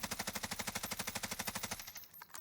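Bruin machine gun firing in Call of Duty Warzone, without a foregrip: a loud, close, rapid burst of evenly spaced shots lasting under two seconds, then an abrupt stop with a brief echoing tail.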